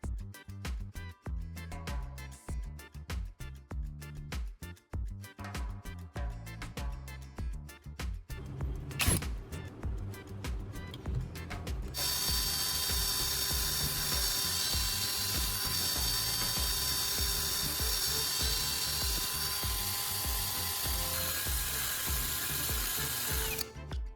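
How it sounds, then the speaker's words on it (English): Power drill boring into a metal spoon handle clamped in a bench vise, with rattling, ratcheting tool noise early on, then a steady, loud grinding whine that holds continuously to the end. "Make sure it doesn't move when we start drilling."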